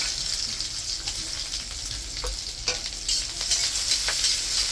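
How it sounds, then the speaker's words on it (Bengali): Chopped onion and garlic fry in hot oil with dried chilli, a steady sizzle broken by scraping stirs and occasional clatters of a spoon against the pan. "পেঁয়াজ রসুন ভাজা ভাজা হয়ে গেছে"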